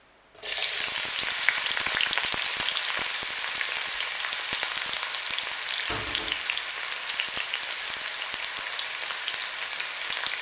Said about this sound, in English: once you notice that your oil is hot, fry your onions